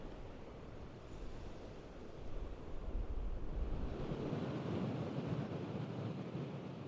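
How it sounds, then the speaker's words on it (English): Ocean surf rolls and washes steadily onto a windy shore, a continuous broadband roar with heavy wind buffeting the microphone, swelling louder midway through. "Waves."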